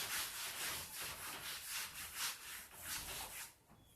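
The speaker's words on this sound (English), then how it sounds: "Now I can rub this equation." An eraser or duster scrubbing an equation off a board in repeated quick back-and-forth strokes, a faint rhythmic rubbing that stops near the end, with no talking.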